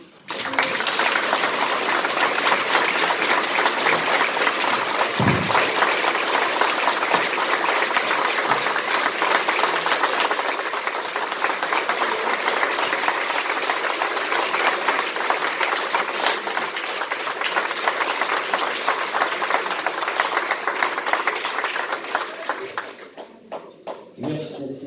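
Sustained applause from an audience at a 2020 New Year's greetings ceremony after a mayoral speech, a dense steady clatter of clapping lasting over twenty seconds before tapering off, with a single low thump early on.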